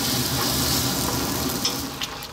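Tomatoes sizzle and spit steadily in a pan over fairly high heat for a chicken curry, a dense continuous frying hiss that eases slightly toward the end.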